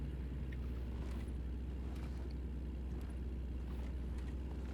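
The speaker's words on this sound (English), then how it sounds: "truck noise" A heavy truck engine drones steadily in American Truck Simulator, a constant low rumble with a faint whine on top, even and unbroken for the whole stretch.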